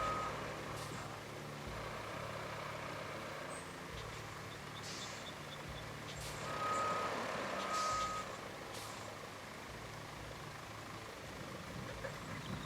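Reversing beeps sound from a truck in the RoadCraft driving game as it turns around, steady repeated tones at moderate distance over a low engine rumble and some background clatter.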